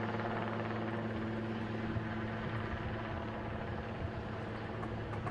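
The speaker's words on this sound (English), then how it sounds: "now having to hold that helicopter in place" A helicopter hovers in place while a large TV antenna is installed in Parma, giving a steady droning rotor and engine hum. The drone sounds distant and moderate in level, continuous and unbroken throughout, with no voices.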